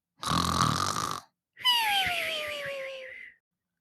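A read-aloud story voice imitates a dragon snoring: one harsh rasping inhale, a short pause, then a long wavering exhale. Both are close and fairly loud.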